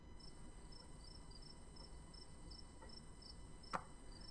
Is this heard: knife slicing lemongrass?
no